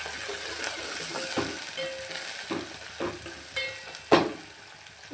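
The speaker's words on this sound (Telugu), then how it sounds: "తర్వాత క్యారెట్, తర్వాత కరివేపాకు, కొత్తిమీర ఇవన్నీ వేసుకొని కొంచెం గోలియాలి." Grated carrot, curry leaves and coriander sizzle steadily in hot oil, a constant bright frying hiss broken by several soft clicks and scrapes of stirring, with no voices.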